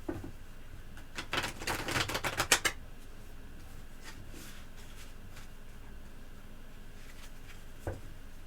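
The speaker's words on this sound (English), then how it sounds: "let's shuffle up your cards" A quick burst of tarot card shuffling, crisp riffling snaps close by, then quiet rustles and a lone tap near the end.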